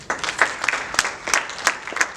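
Scattered, uneven clapping from a small church gathering at a Christian event, with a handful of separate sharp claps spread across a couple of seconds rather than a full burst of applause.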